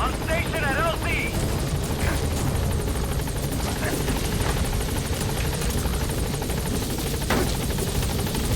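Support helicopter in Metal Gear Solid V arriving at a landing zone: loud, continuous rotor thrum and engine whine close by, with brief radio voice chatter over it.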